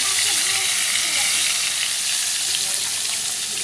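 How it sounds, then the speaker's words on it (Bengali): Pangas fish frying in a pan of hot oil, giving a loud, steady, close sizzle and hiss that runs unbroken throughout with no talking. "তো দেখো মাছগুলো এখন ভেজে নিই"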